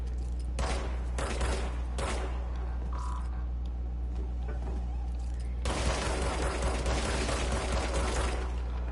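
Gunfire in the video game Control, shots striking the walls in two bursts, a short flurry early on and a longer, louder volley from the middle to the end, over a steady low hum.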